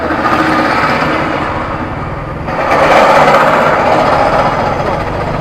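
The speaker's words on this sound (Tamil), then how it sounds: "என்னத்தை ட்ரில் பண்ணுறாங்கன்னு தெரியல, சவுண்டு காதை கிளிக்குதுங்க." Loud, continuous mechanical drilling noise close by, a dense grinding roar that swells louder partway through without letting up, from metro construction works in Chennai.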